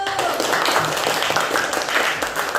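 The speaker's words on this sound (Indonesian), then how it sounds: "Tepuk tangan dulu untuk kelompok 1." A class of students claps for a presenting group in a classroom, a dense continuous patter of many hands at steady moderate loudness throughout.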